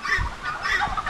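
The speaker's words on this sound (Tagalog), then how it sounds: "Yung mga tandang." Roosters squabble on a farm in a short, close burst of clucking and squawking from several fowl at once.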